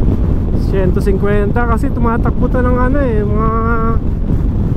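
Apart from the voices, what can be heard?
strong wind rushing past motorcycle on expressway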